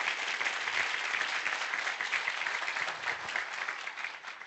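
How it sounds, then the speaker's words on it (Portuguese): A crowd applauds at a corporate team event, a steady, dense patter of many hands clapping at moderate distance throughout, with no voices over it. "merece uma salva de palmas para vocês"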